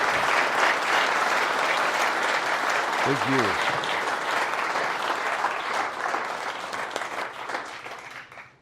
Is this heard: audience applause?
yes